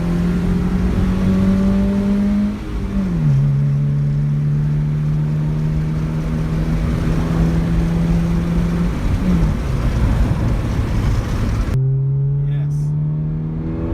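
A 1999 Honda EJ engine fitted with a pod filter drones steadily and loudly from inside the cabin, a strong low hum with shifting tone as revs change, continuous for the whole stretch.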